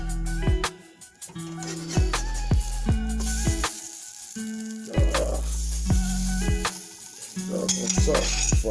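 Smoked sausage sizzles in a pan as it is flipped, with repeated clanks and scrapes of a utensil against the metal over a steady hiss, close by.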